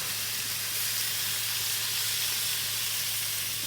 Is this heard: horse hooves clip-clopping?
no